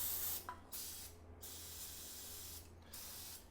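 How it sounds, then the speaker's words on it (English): Aerosol brake cleaner sprayed in a garage during a 2022 Triumph Street Triple RS first service: quiet hissing bursts, a short one near the start, then a long sustained spray, with brief gaps between. "Brake clean."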